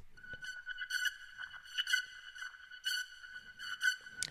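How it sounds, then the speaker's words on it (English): A synthetic laser-like scanning tone with bright pulsing harmonics sweeps and flickers repeatedly, quiet and isolated with no other sounds. "this sound that's like a laser kind of scanner sound"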